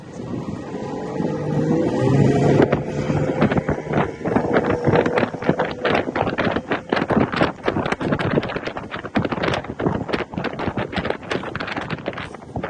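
A Tohatsu 50 HP two-stroke outboard motor runs steadily on a boat, its engine drone mixed with heavy wind buffeting and rapid knocking transients throughout.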